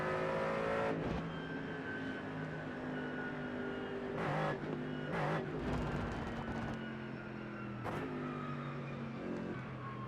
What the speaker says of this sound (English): giant V8 engine go burr